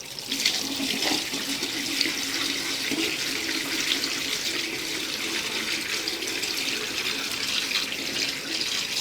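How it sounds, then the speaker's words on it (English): Water runs steadily out of a backed-up pipe outdoors, a continuous rushing, splashing flow close by with no talk over it. "Sure enough, there's water running out of it."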